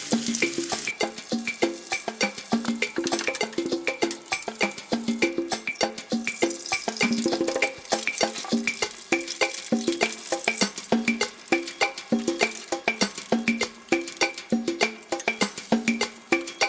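Veggie and pork breakfast sausage links fry in a pan, crackling and bubbling steadily with dense popping sizzle throughout, close and continuous with no talk.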